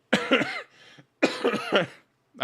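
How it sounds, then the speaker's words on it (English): A person coughs in two close bursts, each a quick run of harsh, throaty hacks, loud and near with a brief pause between them. "coughing because I'm laughing at my own joke"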